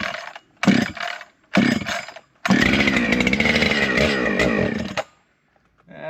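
A chainsaw is pulled over with the choke on: three loud rasping starter pulls, the last catching into a few seconds of harsh running, close up and alone before it dies.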